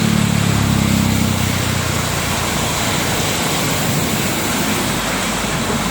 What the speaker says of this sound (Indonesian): Deras teman-teman hujannya.